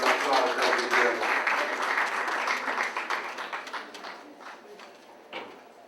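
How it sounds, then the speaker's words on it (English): Guests at an anniversary banquet dinner applaud Congressman Sherman, loud dense clapping that gradually thins and fades out, with a few scattered claps near the end. "So can you give him an applause?"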